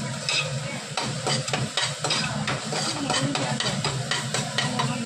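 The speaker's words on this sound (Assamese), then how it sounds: "ঢালি পেলাই আমি এতিয়া অলপমান ভাজিম।" Masala spices frying and being stirred in a pan for chicken pulao, a steady sizzle with repeated scraping stir strokes running throughout, close and fairly loud.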